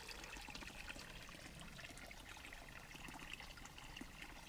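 Spring water trickles and burbles steadily nearby at the water source for Saunders Shelter on the Appalachian Trail, a soft continuous flow with no voices.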